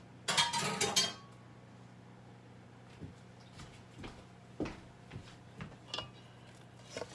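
Dishes and utensils clink in a kitchen sink, with a cluster of clattering knocks at the start, then sparse, lighter clinks and taps spread out over the following seconds.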